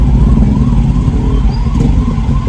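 An ambulance siren wails in road traffic, its rising and falling tone heard over heavy, loud engine rumble and wind noise from a moving bike.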